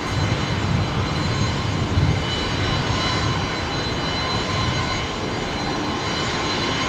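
Jetstar flight JQ836, a jet airliner, lands on runway 01 left at Brisbane Airport, a steady, loud engine roar heard from nearby that holds throughout with a slight swell midway.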